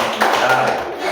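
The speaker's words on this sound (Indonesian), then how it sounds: "Tepuk tangan untuk anak Bapak semua ya" Fourth-grade children clapping in a classroom, a short burst of loud, fairly close hand claps lasting about a second.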